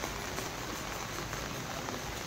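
Steady, heavy rain falls and patters on surfaces with a constant broadband hiss, close and unbroken for the whole stretch.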